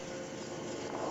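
Wind turbines heard in a raw field recording: a steady, broad whooshing drone with a low rumble beneath it, constant and unbroken throughout, with no voices.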